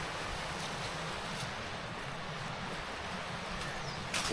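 A nice little woodland stream with a small waterfall on the Appalachian Trail in Connecticut, giving a steady, full rushing wash of falling water that stays constant throughout, with no voices.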